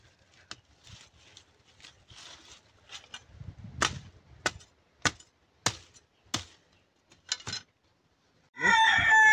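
A chicken crows loudly and close at the very end, after a run of sparse, sharp knocks and faint rustling in an otherwise quiet setting.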